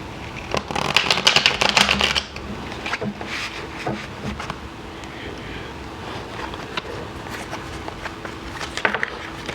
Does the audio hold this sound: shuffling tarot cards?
yes